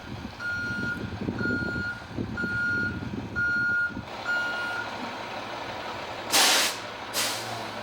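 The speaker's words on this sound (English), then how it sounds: "Backing up with a trailer, such as a chipper, is far more complicated" A truck backing up with a chipper trailer sounds a steady series of loud, evenly spaced reversing beeps over a rumbling diesel engine, ending with two sharp bursts of air-brake hiss.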